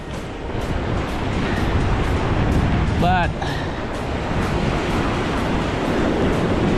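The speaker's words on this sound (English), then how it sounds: "It's kind of rough water" Rough sea water churns around the Pensacola fishing pier in a constant, close wash of waves blended with wind, while someone talks briefly over it.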